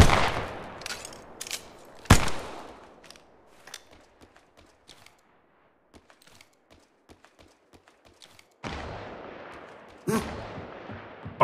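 Apex Legends Mobile gunfire: a few sharp shots open the sequence, then scattered quieter clicks and taps, followed by two louder bursts of firing near the end.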